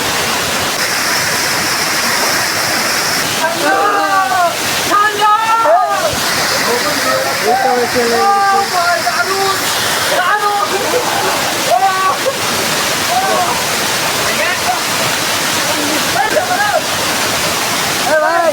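A large mountain waterfall roars in a steady, loud wash of rushing water up close, while several people talk and call out over it throughout.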